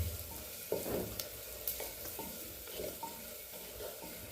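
Spice masala with chopped coriander frying in oil in a pan for matka chicken, giving a steady close sizzle with intermittent stirring scrapes and clicks, with no talk.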